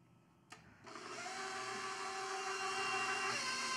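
An electric hand mixer whirs up to full speed while beating an egg into cookie dough, a steady loud motor drone following a brief clatter, running continuously without talk.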